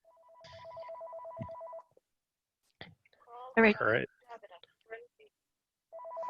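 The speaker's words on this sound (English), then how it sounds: "Someone's phone is ringing." Phone ringing during an online meeting, a clear electronic ring tone in two bursts with a gap between, under brief talk and clicks.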